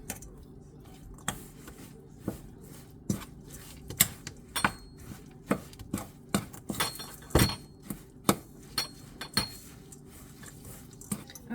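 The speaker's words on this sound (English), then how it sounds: "now I have to whisk this all together" Oatmeal raisin cookie dough is whisked in a bowl, giving a run of sharp clinks and taps of the utensil against the bowl at irregular intervals, close up, with no talking.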